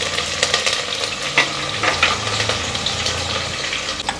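Curry leaves and green chillies frying in oil for Ankapur chicken curry, a steady close sizzle with occasional stirring scrapes and small crackles throughout, no voices.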